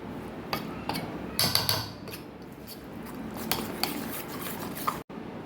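A spoon stirs handvo batter made from premix with red chili powder, coriander-cumin powder and salt in a bowl, giving repeated scraping strokes and sharp clinks against the vessel, close and fairly loud.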